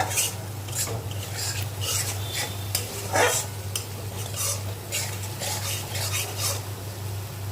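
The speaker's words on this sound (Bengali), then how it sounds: "মশলার কাঁচা গন্ধটা থাকা অব্দি ভেজে নেবো" Spices being stirred and fried in a pan for a vegetarian dhokar dalna, with a steady sizzle and repeated metallic scrapes and clinks of a utensil against the pan, close and continuous, over a low hum.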